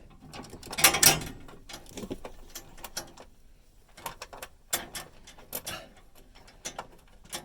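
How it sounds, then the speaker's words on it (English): A ratchet works loose an original factory bolt inside a Ford Transit low-roof van, giving uneven bursts of close mechanical clicking and ratcheting with short pauses between strokes. "We're removing this original bolt."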